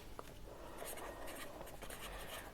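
Marker or chalk writing on a board during an accountancy lesson, a continuous faint scratchy stroke sound lasting a couple of seconds with no talk.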